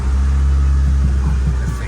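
White Mitsubishi Lancer Evolution VIII with a stock factory exhaust, its engine loud and close, a heavy low rumble throughout with slight revving rises, under a voice.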